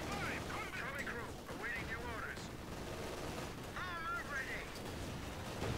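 Gunfire in Company of Heroes 2, a dense crackle of small-arms shots and bursts with a steady battle din underneath, mid-distance, while voices talk over it.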